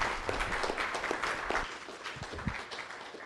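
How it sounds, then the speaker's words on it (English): An audience at an MSP conference session claps for a presenter: a steady, moderately loud patter of many hands with sharp individual claps scattered through it, holding across the whole stretch. "Can I get a round of applause for Jim?"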